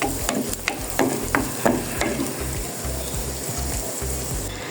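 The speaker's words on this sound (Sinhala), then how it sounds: "මේ ටෙම්පරාදුවේ චුට්ටක් මේ ලුණු ටික මැලවිගෙන හොඳට එනකොට මම කෑලි මිරිස් චුට්ටකුත් එකතු කරා." Onions and chili flakes sizzle steadily in hot oil as a tempering for a mackerel-pod curry, with a few sharp stirring clinks early on and a constant close frying hiss throughout.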